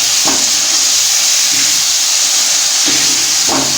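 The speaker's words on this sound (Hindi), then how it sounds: "और थोड़ी अदरक ऐड करनी है स्लाइस में कटी हुई। इनको अच्छी तरह से बीच में भूनना है।" Sliced ginger frying in masala for mash daal, giving a steady, loud hiss of sizzling oil throughout, with a few soft stirring knocks under the constant frying noise.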